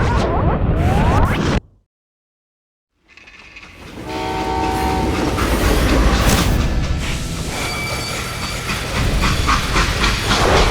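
A freight train in the Western video game Call of Juarez Gunslinger rumbles and hisses steam, with a horn-like tonal blast rising over the heavy rolling noise after a brief silent gap.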